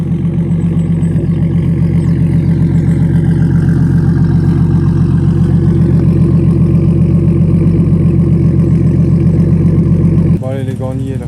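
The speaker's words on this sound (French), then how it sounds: "là maintenant, on est sur un ralenti stable déjà" A car engine idles steadily at a low, even rumble, close and loud, holding a constant rhythm for several seconds before it cuts off abruptly near the end.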